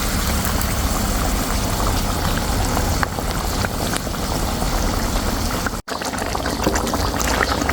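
Catfish curry with pickled pepper pods bubbling at a steady boil in a pan, a continuous broad rumble with occasional scraping stirs, one brief dropout near the end.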